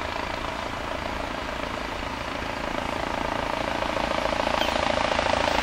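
An emergency medical transport helicopter's steady rotor thrum and engine whine fill the air, growing gradually louder as it comes in to land, with no voices.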